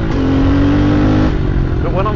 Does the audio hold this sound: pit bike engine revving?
yes